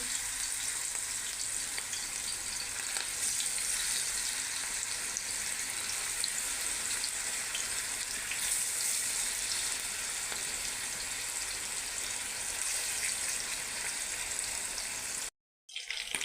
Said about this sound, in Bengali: এখন আমি মাছটাকে ভেজে নেব। এখানে আমি সরিষার তেল দিয়েছি।